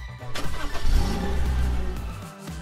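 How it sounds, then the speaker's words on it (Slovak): A car engine cranks and starts, then settles into a steady idle hum, loud and close, with no one speaking. "Motor musí byť naštartovaný."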